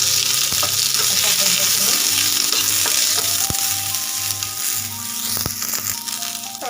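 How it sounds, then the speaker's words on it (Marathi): Sliced onion sautés in a pan, giving a steady close sizzle with occasional stirring scrapes while someone speaks briefly over the frying. "आपला कांदा पण कलर चेंज होईपर्यंत इथं परतलेला आहे"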